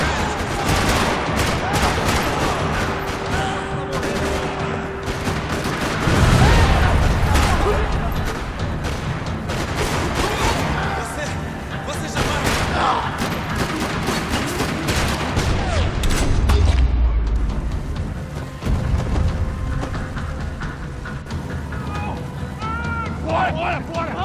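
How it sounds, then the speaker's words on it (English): Gunfire in the video game Max Payne 3 on PlayStation 3, in a parking lot: rapid bursts rattle almost nonstop with heavy booms, loud and chaotic, while voices call out now and then beneath the shooting. "Another parking lot rattling with gunfire."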